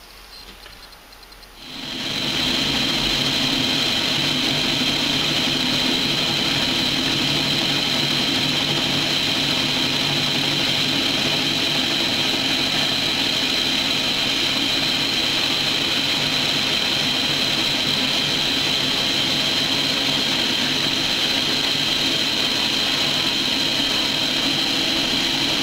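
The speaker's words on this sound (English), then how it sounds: "before I put it into the linisher and smooth it off a fair bit" A linisher belt sander smoothing the edge of a metal part taken from Yamaha R1 throttle bodies: the motor spins up after a short quiet start, then runs as a steady, loud whine with a high tone throughout, close by and without speech.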